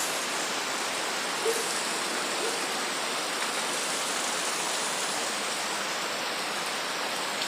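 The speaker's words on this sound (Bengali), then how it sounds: "দেখো পাহাড় দেখা যাচ্ছে না, চরম বৃষ্টি হচ্ছে।" Heavy monsoon rain pouring in Kerala hills, a dense, steady hiss of downpour that fills the scene loudly without a break.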